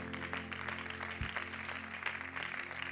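A church congregation at a Sunday service applauding together, a steady wash of clapping hands with a low organ-like hum beneath it and no speech.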